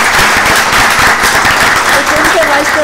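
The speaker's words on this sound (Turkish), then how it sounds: "Evet, bir alkış istiyorum ben." Applause from an audience at a Turkish business forum on SME bank lending, dense and steady throughout, with a voice speaking over the clapping near the end.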